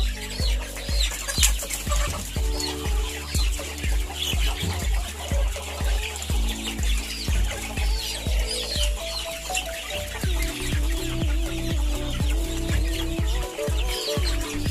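Free-range village chickens on a farm cluck repeatedly over a steady, rhythmic bed of background music, with no talking.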